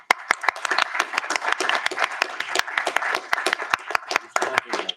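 A loud round of applause at a council cabinet meeting, sharp individual hand claps from a small group rattling along in an uneven, brisk rhythm for several seconds, close and clear.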